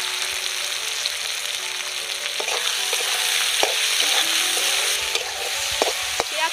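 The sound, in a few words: stir-frying chopped onion with salt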